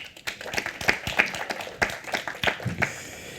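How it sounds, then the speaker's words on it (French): Applause from a conference audience greeting a guest onstage, with dense overlapping claps that hold at an even level for the whole stretch and then taper slightly at the end. "Et on peut l'applaudir"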